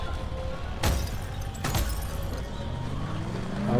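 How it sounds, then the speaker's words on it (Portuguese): Glass shattering in the zombie game Dead Island, two sharp crashes about a second apart over a steady low engine hum, loud and close with no talking. "Quebra vidro assim."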